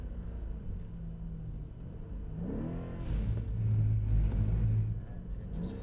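An AMG car on a driving-experience track with its tyres running sideways, a low rumbling engine and tyre roar that swells and grows louder toward the end, heard from inside the car.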